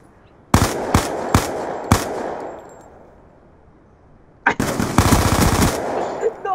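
Video game pistol fire cracks loudly and close, four quick shots in a row, then after a short lull a rapid volley of shots, with faint background noise between.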